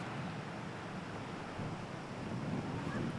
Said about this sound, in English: The updrafts of this windy hill make it an ideal place to teach large birds to fly